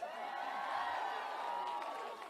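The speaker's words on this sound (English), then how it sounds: "This is a huge crowd" A large protest march crowd, a sustained murmuring roar of many voices with faint cheering, steady and somewhat distant throughout.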